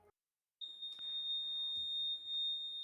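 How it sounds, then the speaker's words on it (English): A household fire alarm beeps as one continuous, piercing high-pitched tone that starts abruptly and holds steady, loud and close, over faint background noise. "My fire alarm's going off."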